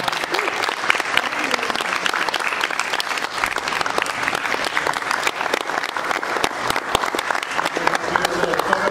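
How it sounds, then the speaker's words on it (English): Steady, dense applause from an audience at a laptop orchestra concert, loud and continuous for the whole stretch with no break. "Another round of applause for them."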